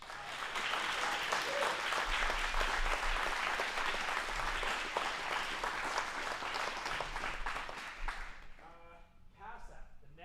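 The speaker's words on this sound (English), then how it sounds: "So a round of applause to everyone who made this day happen" An indoor audience breaks into sustained, loud applause at an event, with many hands clapping steadily before it thins and fades out near the end.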